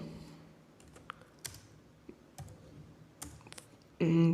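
Keys click on a computer keyboard as a blog subheading is typed, in sparse, separate taps close up, and a voice cuts in abruptly at the very end.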